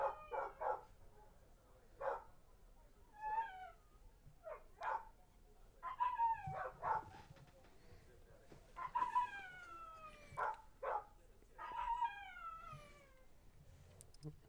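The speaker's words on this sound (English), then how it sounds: "Can you hear my other dog?" A dog barking in a home alongside a meowing cat, repeated short calls and yelps in an irregular rhythm, fairly close, with no clear talk over them.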